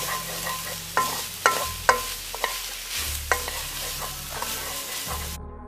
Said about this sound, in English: You can add in the shallot and stir.